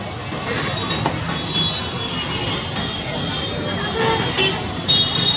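Busy road traffic heard while cycling through a crowded market street at school closing time, a steady rumble of engines with scattered horn toots, and someone talking over it.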